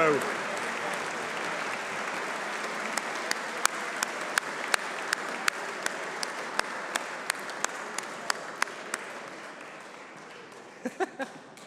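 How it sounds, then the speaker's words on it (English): Long, sustained round of applause from an audience at a Corps of Royal Engineers award ceremony, dense and steady throughout with sharp individual claps and whoops punctuating it, thinning slightly near the end. "his uh, lingering round of applause"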